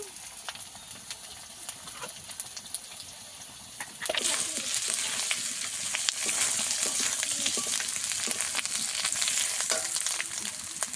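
Turmeric and chilli powder sautéed in oil as part of a fish-and-drumstick curry, sizzling steadily, then jumping to a much louder, fuller hiss partway through as moisture hits the hot pan, with faint scraping of a spatula.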